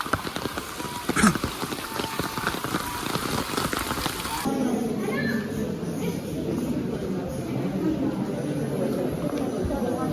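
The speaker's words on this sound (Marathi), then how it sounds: "पाऊस आला" Rain falls steadily outside a government hospital, a dense close patter on surfaces that grows softer and more diffuse partway through, with faint voices in the background.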